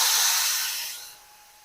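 Spice paste poured into hot oil over fried whole-spice tempering, cooked for an ash gourd (chal kumro) curry, bursts into a loud, bright sizzling hiss that gradually fades and settles into a quieter fry.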